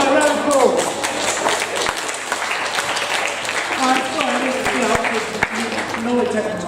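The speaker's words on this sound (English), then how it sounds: "so round of applause" Audience applause after a folk dancing session, a steady dense wash of clapping mixed with crowd chatter and voices throughout, fairly loud and continuous.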